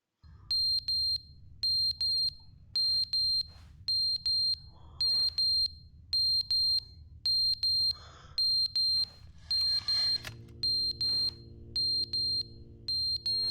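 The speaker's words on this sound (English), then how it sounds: "let's skip that alarm" An alarm in The Stanley Parable rings in a fast repeating pattern of high bright electronic pulse groups, loud and steady for many seconds, with some faint background game sounds near the end.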